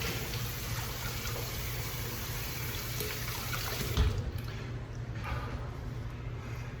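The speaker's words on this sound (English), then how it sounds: "Rinse in cold water." Running tap water while rinsing a freshly shaved face with cold water, a steady close splashing trickle throughout with a slight surge midway and faint background noise.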